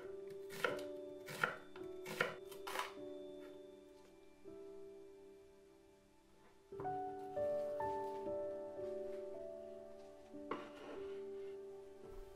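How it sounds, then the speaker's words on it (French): A knife chops carrot and onion firmly on a cutting board in quick bursts of sharp strikes, pausing, then slicing again more softly near the end. "une carotte que j'épluche et que je coupe en larges rondelles"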